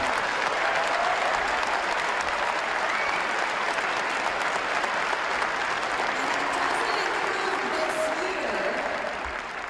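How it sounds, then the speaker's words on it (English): Sustained audience applause at a holiday charity phone-a-thon and sort-a-thon event, a dense steady roar of many hands clapping continuously for nearly ten seconds, tapering slightly at the end. "Let's give one more round of applause."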